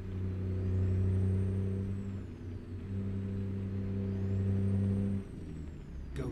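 A truck with a Detroit diesel engine and 18-speed transmission driving, steady low engine drone that swells and eases, with a faint high whine drifting above.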